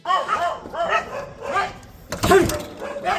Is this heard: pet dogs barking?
yes